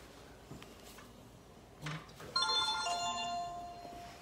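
A mobile phone rings in a kitchen while veal piccata is being cooked, a bright electronic ringtone of sustained tones that starts partway through after a few faint clicks, moderately loud.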